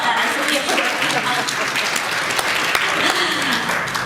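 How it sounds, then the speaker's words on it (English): Audience applauding at a legislative breakfast, a dense, steady wash of clapping from a room full of people that holds evenly for several seconds. "we can applaud that"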